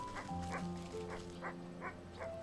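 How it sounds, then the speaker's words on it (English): An anxious sheepdog wearing a sweater barks in the Wytchwood video game, giving several short, evenly spaced yips over steady game music and ambience. "That's a dog in a sweater."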